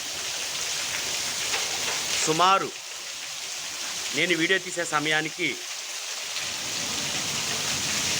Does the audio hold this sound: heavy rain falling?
yes